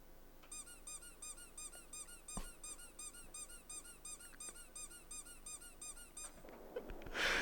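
A tractor in Farming Simulator 22 gives a rapid, regular series of high squeaks repeating steadily over a faint low hum, ending in a brief burst of noise.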